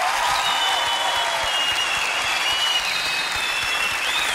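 A studio audience at an Egyptian comedy talk show applauds and cheers in a steady, loud wash of clapping that holds evenly from start to finish.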